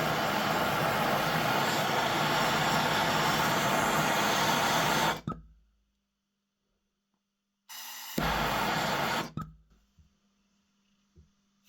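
Torch flame heating the nipple of an antique pocket pistol, a loud, steady roaring hiss that cuts off, then returns for a short second burst before stopping.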